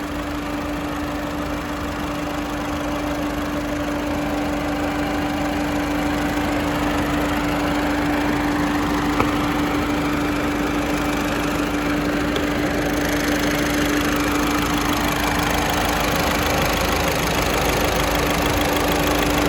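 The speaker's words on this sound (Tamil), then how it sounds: "உங்களுக்கு சவுண்டு கேட்கணும்னு நினைக்கிறேன். ஒரு லாரியோட சவுண்ட் அளவுக்கு இருக்குது." Volkswagen Vento car engine runs continuously at idle, a loud, steady, lorry-like drone with a constant low hum and faint knocking texture, close by with no talking.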